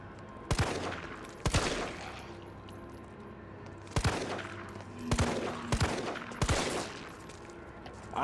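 Gunshots ring out in the Resident Evil 3 demo video game, six sharp separate blasts spaced irregularly across several seconds, each followed by a short echoing tail, with no talk over them.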